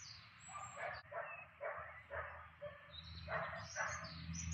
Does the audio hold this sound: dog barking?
yes